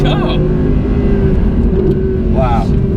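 Audi R8 engine droning steadily while driving on a straight, a loud continuous hum with brief revving surges near the start and end, and people talking over it.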